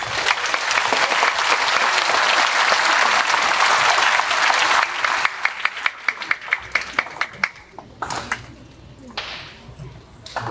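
Audience applause at a school Veterans Day celebration, a dense, loud wash of clapping that thins after about five seconds into scattered individual claps, with a short swell near the end.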